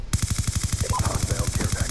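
Rapid automatic gunfire from a first-person shooter game rattles in a fast, steady burst of evenly spaced shots, loud and continuous throughout.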